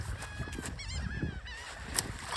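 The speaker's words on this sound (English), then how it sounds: "Also, the birds are migrating." Several migrating geese honk in repeated, wavering calls, fairly close overhead, outdoors near water amid steady background noise and a few splashes.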